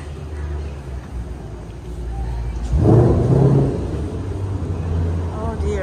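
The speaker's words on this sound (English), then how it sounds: "that's a nice car, but very noisy" A loud, noisy car passes close by on a Gibraltar street, its engine swelling suddenly and then fading over several seconds.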